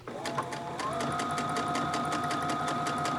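A sewing machine runs steadily, stitching in the ditch along the edge of a hair salon apron, a continuous close whirring hum with a rapid needle rhythm throughout.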